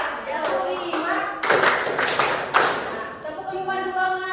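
A class of children claps in short rhythmic bursts during a classroom clapping exercise, close and fairly loud, with children's voices and an adult's counting mixed in between the claps.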